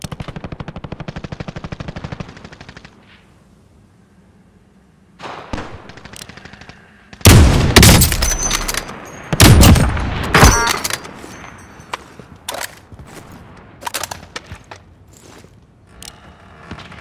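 Bursts of automatic gunfire and single shots in the Warzone battle royale video game, loud clustered volleys around the middle with scattered shots and footsteps between, opening over quieter background game sound.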